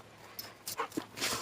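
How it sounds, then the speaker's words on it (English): Dogs playing indoors in the morning, with brief yips, whimpers and scuffling bursts, fairly faint and close. "The dogs are playing."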